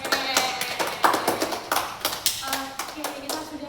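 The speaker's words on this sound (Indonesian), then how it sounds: "tepuk tangan dulu." A group claps hands at the close of a class session, sharp irregular claps rising and falling in bursts, fairly close, with some voices mixed in.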